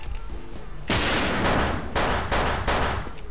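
Video game gunfire: several loud bursts of rapid automatic shots ring out close by, separated by brief pauses.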